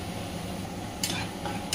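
Onions frying in a pan with salt and a little turmeric are stirred, producing a soft continuous sizzle with a few light scraping strokes near the end.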